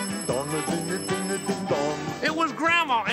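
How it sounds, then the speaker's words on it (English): A doorbell rings in a children's television show, sounding as a series of repeated bright bell tones in a quick rhythm, loud and close, with a sung, musical quality throughout. "The doorbell rang."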